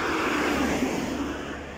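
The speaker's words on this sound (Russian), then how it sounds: "И, как водится, мотор ревет." A car engine roars on Pirogova Street in Nalchik, a steady, fairly loud motor rumble with traffic noise that swells briefly and then fades slightly.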